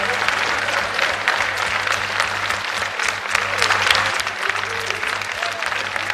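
Prolonged applause from a conference audience at a science festival, a dense, steady wash of clapping hands that holds at an even level throughout, with faint voices scattered beneath it.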